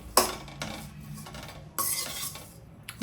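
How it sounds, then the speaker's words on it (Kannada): Ingredients for a protein laddoo are stirred and fried in ghee in a metal pan, with a spoon scraping and clinking against the pan in a few distinct strokes and a soft sizzle between them, close up with no talk. "ಅದಕ್ಕೆ ತುಪ್ಪದಲ್ಲಿ ಫ್ರೈ ಮಾಡಬೇಕು."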